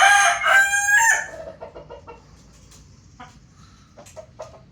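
Several five-month-old McLean x blue gamefowl stags crow loudly and close in overlapping bursts at the start, then short clucks and softer calls follow around a backyard coop.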